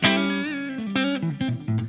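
A clean electric guitar with humbucker pickups played through an MF MesaDyn amp preset based on a Mesa JPIIC, giving undistorted, ringing notes with a sharp pick attack and short sustain, heard alone and fairly close.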